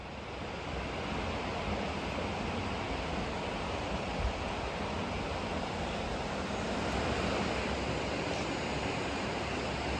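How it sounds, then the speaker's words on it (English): A river rushing beneath a quiet covered bridge among New England fall woods, a steady broadband white-noise roar that holds even and close for the whole stretch with no voices. "we stood under the quiet covered bridge amongst the buzzing and the white noise of the river"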